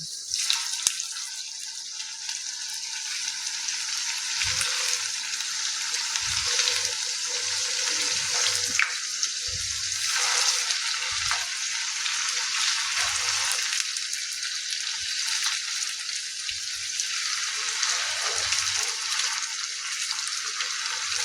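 Crispy potato snack pieces frying in hot oil produce a steady, bright sizzling hiss that runs the whole time, with occasional soft low bumps as pieces are moved or turned, and no talking.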